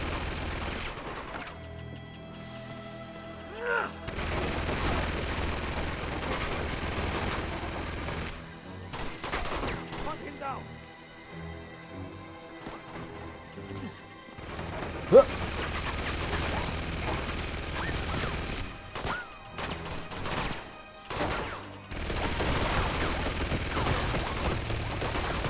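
Enemy turret machine gun fire in the action game Uncharted 2, bursts of rapid gunfire coming in dense stretches with brief lulls, loud and continuous over most of the scene, with a few sharp louder shots.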